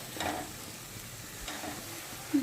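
Ginger-garlic paste fries with onion and tomato in a pan for a prawn malai curry, a steady close sizzle with occasional stirring scrapes and no talking.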